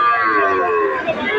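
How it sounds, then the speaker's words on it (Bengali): Calves about three to four months old moo at the Kaharol cattle market in Dinajpur, giving a drawn-out, falling low call close by while people talk over it. "এখানে আরো বেশ কয়েকটি বাছুর রয়েছে।"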